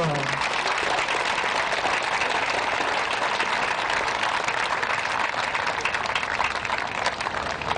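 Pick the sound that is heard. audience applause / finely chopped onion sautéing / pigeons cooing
audience applause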